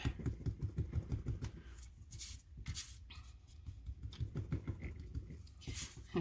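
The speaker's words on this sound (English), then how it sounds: "Tapping. My whole desk is shaking." Fingers tap on cheap paper laid over a desk, a dense run of light patters and soft knocks that come close and fairly loud, with brief pauses and a few sharper bursts.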